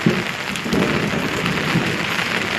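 Heavy rain pours steadily on a farm near a cattle shed as the sky darkens, a dense even hiss with no clear thunder rumble standing out, heard alone without voices.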